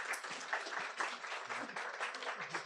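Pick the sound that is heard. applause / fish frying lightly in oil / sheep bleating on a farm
applause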